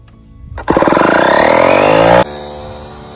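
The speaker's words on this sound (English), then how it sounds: "To do that, I bought this DeWalt air compressor." A DeWalt air compressor starts with a jolt and runs loud and close, a steady mechanical drone with rapid pulsing, for about a second and a half while it inflates an RV tire set to 85 pounds. It then drops to a quieter hum.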